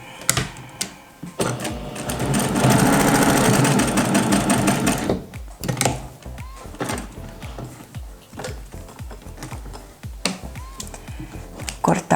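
A sewing machine stitches patchwork fabric along a marked line, a fast steady mechanical whir in a long burst, followed by softer handling clicks and brief bursts of stitching, close by.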